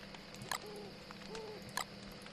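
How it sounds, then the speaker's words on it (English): In the Don't Starve video game an owl hoots at night, two soft, rounded hoots spaced apart over a quiet ambient bed, with a couple of sharp clicks and no speech. "I can hear like an owl howling in the night."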